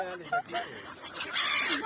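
Geese honk in a few short, nasal bursts at close range, mixed with voices in the background.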